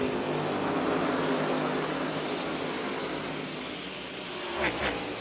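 NASCAR Cup Series race cars roaring around Dover Motor Speedway, a steady loud broadband engine drone from the pack that holds for several seconds, with a brief surge near the end as cars pass close.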